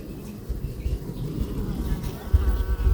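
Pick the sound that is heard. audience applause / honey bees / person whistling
honey bees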